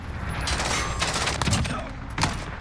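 Rapid gunfire from a Call of Duty Modern Warfare match using the ASH-12.7 rifle, loud dense bursts that run almost continuously for a couple of seconds, with a brief lull and a final sharp burst.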